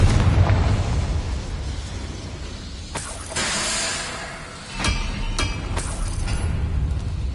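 Confringo blasting spell explosions from the Hogwarts Legacy video game, a steady rumbling roar punctuated by several sharp, loud bursts in quick succession in the second half, with no speech.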